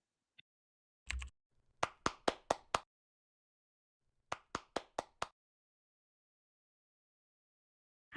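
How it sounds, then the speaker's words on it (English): An audience at a data conference claps for a speaker in sparse, distinct bursts: a quick cluster of claps, a short pause, then a second small run of sharp, close hand claps in a quiet room. "A round of applause for Solène."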